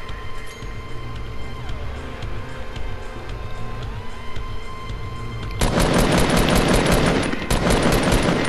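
Fortnite gunfire bursts out in dense rapid volleys near the end, loud and close, following a stretch of game ambience and engine-like hum.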